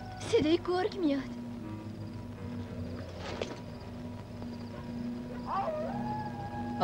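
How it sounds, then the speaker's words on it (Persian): Wolves howling in a 1971 Iranian film, rising wails that swell and fade in several overlapping calls over a steady low music or ambient drone, moderately loud and mid-distance. "صدای گرگ میاد."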